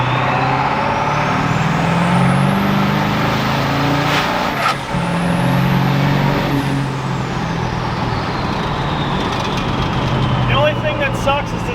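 A 1969 Ford F250 crew cab truck with a ZF5 transmission, driving in third gear at about 1800 rpm, gives a steady loud engine and road drone that rises with a whining pitch sweep partway through. People talk over it.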